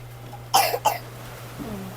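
A person coughs twice in quick succession, close and fairly sharp against a quiet room with a low steady hum, followed by a faint soft vocal sound.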